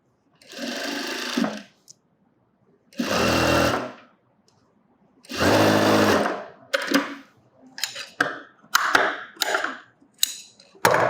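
Sewing machine stitching a blouse body piece in a tailoring lesson, running in three long steady bursts with pauses between, followed by a series of short choppy stitching runs and clicks.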